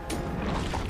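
A grenade goes off in Helldivers II, a single sharp burst with a broad crackling tail that fills the short moment, close and fairly loud over a busy game soundscape.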